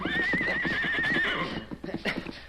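A horse neighs loudly and close by in a long, wavering whinny while being sponged and brushed, followed by scattered soft hoof clops and shuffling.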